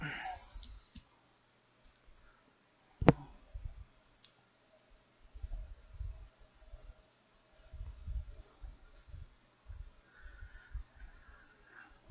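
Mouse clicks during a Windows 10 software install for an ExileServer setup, a sharp single click near the start followed by scattered faint ticks and low handling noises in a quiet room.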